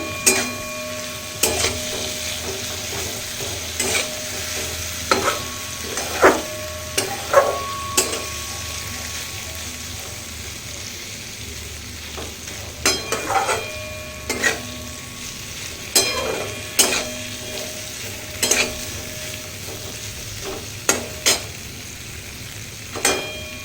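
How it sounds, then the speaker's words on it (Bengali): Spice masala fries and is stirred in a pan for a pointed gourd curry: a steady low sizzle runs throughout, with regular sharp scrapes and clinks from a spoon against the pan. No one speaks. "মশলা ভালো করে ভেজে নিতে হবে"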